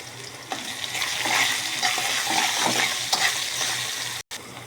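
Onions browning in hot oil crackle and hiss up close as they are stirred, with soft scraping through a continuous sizzle and a momentary cutout just before the end.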